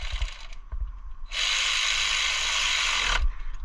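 Ratchet tightening thermostat housing bolts on a 2000-2006 Nissan Sentra 1.8, a few soft clicks and then a steady close buzzing run of about two seconds that stops abruptly.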